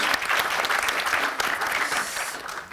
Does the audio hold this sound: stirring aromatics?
no